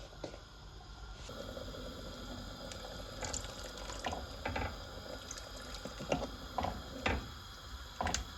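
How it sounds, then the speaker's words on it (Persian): Water pours into a pot of Ghormeh Sabzi, the Persian herb stew, as a steady close trickle with scattered clinks and small splashes throughout. "کمی آب به غذامون اضافه میکنم که خورشتمون خود آبدار باشه"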